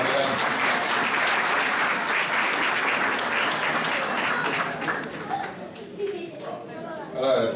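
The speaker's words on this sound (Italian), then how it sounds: "Un applauso, facciamo un applauso." Audience applause at a nativity scene competition award ceremony in Fasano, Italy, steady crowd clapping that fades after several seconds into murmuring voices and a few scattered claps.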